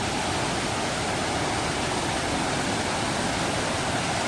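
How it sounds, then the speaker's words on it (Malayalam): Marottichal waterfall in Kerala thundering with heavy, forceful flow, a dense, steady roar of crashing water with no pauses and no voices. "അന്നത്തേക്കാളും കുറച്ചുകൂടെ ഭയങ്കര ശക്തിയായിട്ടാണ് വെള്ളം ഒലിച്ചുകൊണ്ടിരിക്കുന്നത്"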